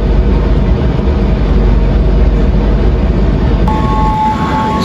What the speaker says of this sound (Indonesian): kereta api Jayakarta masuk di jalur 3